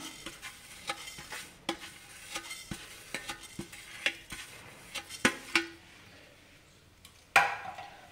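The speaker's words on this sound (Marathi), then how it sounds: "आता याच पॅन मध्ये आपण जे तीळ घेतलेले आहेत थोडे, ते पण भाजून घेऊया।" Sesame seeds dry-roasting in a pan are stirred with a utensil, giving a run of light scraping taps and a few sharper metallic clinks, close and fairly quiet, with no talking.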